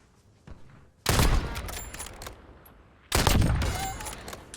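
Bursts of gunfire in Warzone, a Call of Duty battle royale, crack out in two loud, dense volleys separated by quieter ambience, with a faint shot between them.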